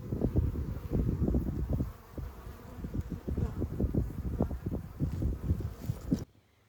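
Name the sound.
bees buzzing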